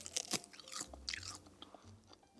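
Thin, crispy seasoned gopchang dolgim laver crackles as it is bitten and chewed up close, a quick run of sharp crunches that taper into softer munching, with no speech.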